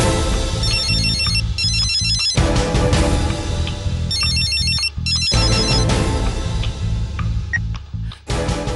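A telephone rings loudly in a repeating electronic ringtone pattern, with bursts of ringing separated by brief gaps over steady background music in a Tamil TV serial scene.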